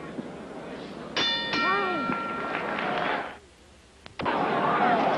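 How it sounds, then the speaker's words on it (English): Boxing ring bell clangs to end a round at a 1979 world middleweight title fight, a couple of sharp ringing strikes over loud arena crowd noise, with a commentator's voice underneath. "You'll hear the bell for the end of the round in just seconds."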